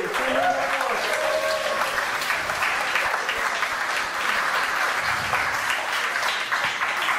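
Applause from an audience at a startup accelerator demo day, a dense, sustained roar of many hands clapping for the full stretch, loud and near, with a voice briefly audible at the very start.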